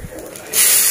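Dry red chillies dropped into hot oil already holding nigella seeds in a home kitchen; a quiet start gives way to a sudden loud, steady sizzle and hiss for the second half, with no voices.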